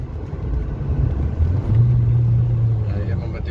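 A BMW E30 M3 engine hums low and steady from inside the car, with a rising engine tone as the driver shifts up through the gears. People talk over the rumble.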